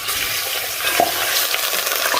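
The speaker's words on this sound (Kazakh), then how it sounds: "Қып-қызыл болғанша қуырып аламыз." Lamb meat frying in hot oil in a pan, a steady bright sizzle with occasional stirring scrapes and pops, close and continuous with no talking.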